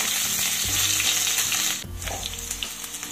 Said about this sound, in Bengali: তেলটা কিন্তু বেশ ভালো গরম হয়ে গেছে। এবার আমি দিয়ে দিচ্ছি কেটে রাখা বেগুনের